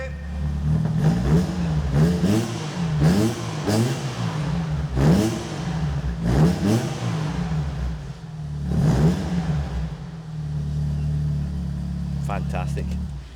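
A Peugeot 106 GTi engine blips up to about 3,000 rpm again and again from idle, close and loud, each rise and fall of revs clearly separated, with a person speaking between the revs.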